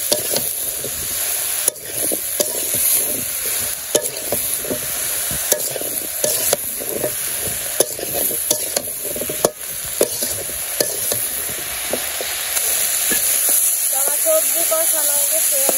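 Vegetables being stir-fried in a pan in a village kitchen, a loud close sizzle with rhythmic scraping and clanking of a spatula, fading to quiet near the end.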